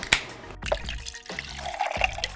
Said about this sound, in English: Before we talk about it, let's pour it in a glass.